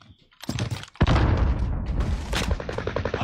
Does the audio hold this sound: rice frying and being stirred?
no